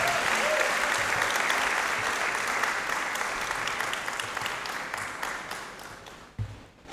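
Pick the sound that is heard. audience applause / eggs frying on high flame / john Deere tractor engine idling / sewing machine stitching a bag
audience applause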